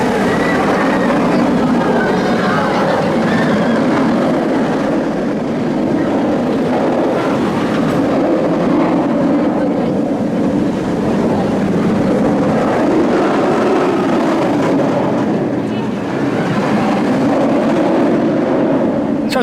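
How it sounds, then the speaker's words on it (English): Loud, steady rushing roar of the Nemesis B&M inverted roller coaster at Alton Towers, heard on board with wind and track rumble sustained throughout and no voices. "So it's an awesome ride there on Nemesis, most likely my last ride on that wonderful B&M inverted coaster of 2018"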